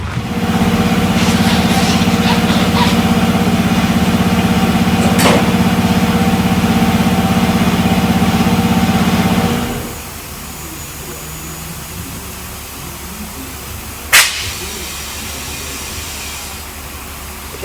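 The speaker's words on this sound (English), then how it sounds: "that airline is the automatic inflator, so I just set it whatever PSI I need" An automatic airline inflator hisses loudly and steadily while pumping up a tyre, then cuts off abruptly, leaving quieter workshop background with a sharp click-like burst a few seconds later.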